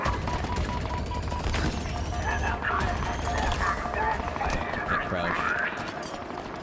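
Enemy gunfire rattles from a hill in the Halo video game, rapid bursts of shots under frequent game chatter and someone talking, steady and moderately loud with a short pause midway.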